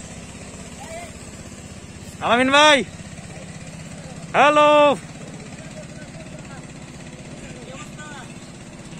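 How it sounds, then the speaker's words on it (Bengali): A motorboat engine drones steadily as the boat comes in toward the shore on Nikli Haor in Kishoreganj, a low continuous hum broken twice by loud bursts of a man calling out. "দেখতে পাচ্ছেন একটা নৌকা ভিড়ছে, ওটাই হচ্ছে আমাদের নৌকা"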